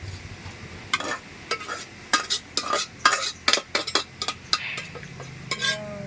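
Onion and mung beans being stirred in a pot, with a quick series of close scraping, clinking strokes at an irregular rhythm over a faint cooking hiss. A brief word is spoken.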